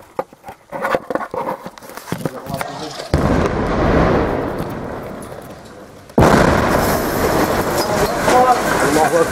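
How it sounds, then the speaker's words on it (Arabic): Rocket shelling strikes the Salma resort area in Latakia, heard as sudden loud broadband blasts that step up twice into sustained roaring rumble, after earlier scattered crackling impacts and bursts. "قصف صاروخ عنيف على مصيف سلمى"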